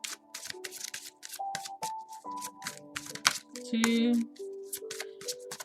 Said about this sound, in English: Normally I just shuffle the deck.